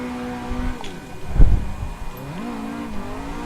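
An SR20-engined drift car in the racing game Assetto Corsa, engine note rising and falling with throttle, a brief louder burst midway, then a climbing rev tone.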